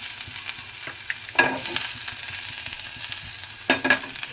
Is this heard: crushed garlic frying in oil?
yes